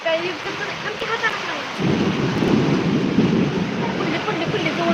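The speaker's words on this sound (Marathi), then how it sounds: "आणि पाऊस आला वारा फाटून सगळं सगळंच" Heavy rain with thunder and wind in a monsoon downpour, a constant loud hiss of rain that swells into a deeper rumbling roar partway through and then holds steady, with no pauses.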